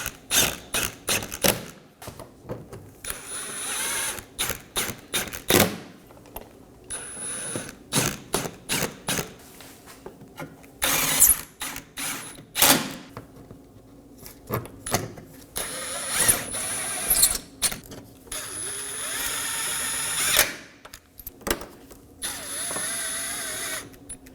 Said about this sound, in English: Now let's reinstall our 7mm bolts. Just snug these down.